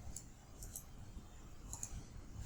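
Soft, quiet mouse clicks while working in PowerPoint, arriving as a few separate clicks and close double clicks, with no talking.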